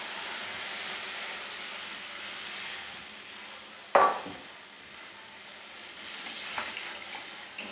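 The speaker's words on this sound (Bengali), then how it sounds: "আমার মশলাটা কষানো হয়ে গেছে। এবারে আমি জল দিয়ে দেব।" Water poured onto sautéed spice paste in a pan for a fish curry: a steady sizzle gives way to a sudden loud hissing burst midway, then a quieter bubbling simmer with faint stirring, no voices.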